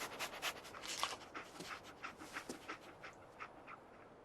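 Dogmeat, the canine companion in the Fallout video game, pants in quick, steady breaths close by, with small whimper-like sounds mixed in and no talking over it.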